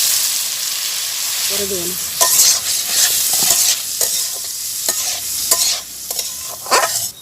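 Dal lentils sizzling in hot oil in a pan in a village kitchen, stirred with scraping strokes over a steady close frying hiss, with brief talk partway through.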